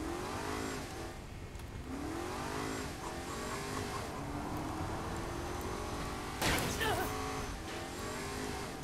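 Engine of a slow car driven in the video game Saints Row IV, a steady revving drone with rising pitch sweeps as it accelerates, heard under voices talking, with a brief loud burst near the end.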